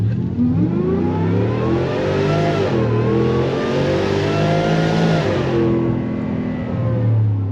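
A 2019 Ford F-150 fitted with a Whipple supercharger accelerates, its engine droning loudly up through rising and falling revs with a steady supercharger whine, heard close from inside the cab.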